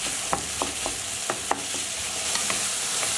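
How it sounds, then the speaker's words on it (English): About 400 grams of beef mince sizzle steadily in a hot pan, with a series of sharp scraping clicks from stirring spread throughout, no talk. "I'm going to add in about 400 grams of beef mince. And we just want to continue cooking."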